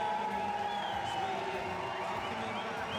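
A crowd at the Rio 2016 Paralympic track cycling velodrome cheering and applauding for a German rider, a sustained distant roar of voices and clapping beneath a commentator's voice.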